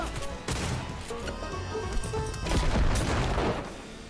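Grenade blast in Cyberpunk 2077 amid a dense, crackling barrage of gunfire, with loud booming bursts layered over continuous shooting and a stronger impact near the end.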